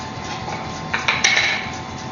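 A large, cheap hammer strikes a hot blade on an anvil at a bladesmith's forge, giving a short cluster of three sharp metallic clanks midway, each with a brief ringing tail.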